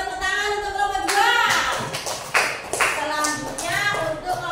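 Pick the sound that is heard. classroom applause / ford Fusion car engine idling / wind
classroom applause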